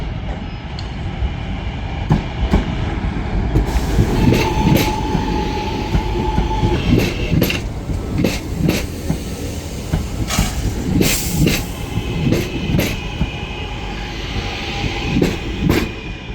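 A Northern Class 323 electric train pulls out of Manchester Piccadilly station with a loud, close rumble, repeated clickety-clack of wheels over rail joints and a steady hiss, with no talk.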